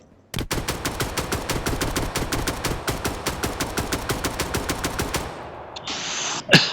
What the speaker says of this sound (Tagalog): Ayun na, may narinig akong putukan mga kapatid.